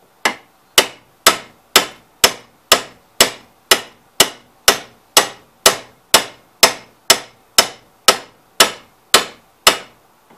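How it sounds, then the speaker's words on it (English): Hammer blows ring out on the shaft of a 1969 Cub Cadet 126 drive clutch during a clutch replacement, about eighteen loud, sharp metallic strikes at a steady, even rhythm, each decaying quickly, with no talking. "Gotta watch and make sure I don't shroom the other end of the shaft here hammering on it."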